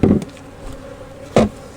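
Honey bees buzzing near a nuc hive in an Apimaye double nuc setup, two short buzzing passes close by, one at the start and another a second later, with a faint steady hum in between.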